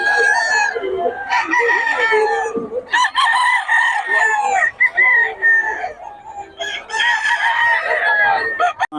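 Roosters and chickens at a busy Bocaue market cluck and crow loudly and close by in repeated bursts, with a few brief gaps and faint voices in the background.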